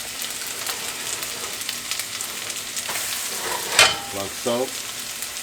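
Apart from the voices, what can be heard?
pancake frying in a pan on medium heat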